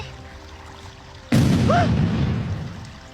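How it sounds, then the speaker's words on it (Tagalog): A sudden loud boom from an explosion hits close by, then a rumbling roar slowly fades over the next two seconds. "Ano yung sumabog?"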